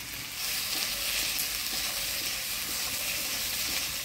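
Chopped onions and tomatoes fry in a pan for a fish and taro curry, giving a loud, dense, unbroken sizzle that holds steady from start to end with faint stirring beneath it.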